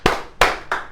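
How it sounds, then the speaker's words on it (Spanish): Clapping in a church congregation during a family service: three sharp, loud, separate claps close by, spaced about a third of a second apart, with no voices. "Démosle un aplauso al Dios de la gloria,"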